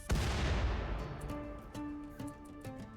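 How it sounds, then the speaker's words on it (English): A loud blast in the RimWorld video game opens with a deep rumbling boom that decays over about a second, followed by scattered sharp pops and gunfire-like cracks. "Soothe, would you stop triggering all my explosions, please?"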